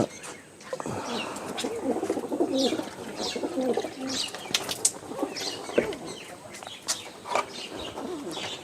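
Farm pigeons coo steadily and close by, with wings flapping and rustling among them and other birds calling now and then.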